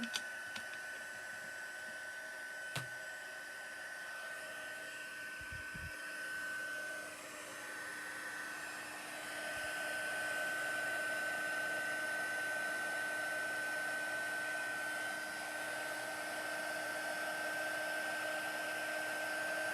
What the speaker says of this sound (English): I got my heat gun right behind me here